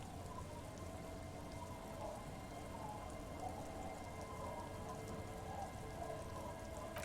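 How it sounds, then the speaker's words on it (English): Rain in the video game Disco Elysium, streaming down over a boat; a soft, continuous rainfall hiss with scattered drops, steady and fairly quiet throughout, with no voices. "She looks at the rain streaming down the yellow belly of the boat."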